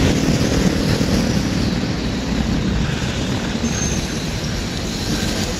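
An LRT train crossing a bridge over the Marikina River makes a loud, continuous rumble and roar with a faint high metallic whine, steady throughout and close by, with no voices.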